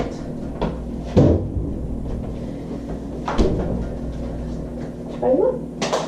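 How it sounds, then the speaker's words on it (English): A refrigerator door is swung open during a training session, with several thuds and knocks of the door and handling, close and fairly loud, against a quiet room. "that's what I wanted her to do, is to swing that door open"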